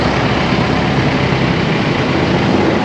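Boat engine throttled down to a low idle: a steady, loud, broadband low rumble and churn with no pauses and no voices.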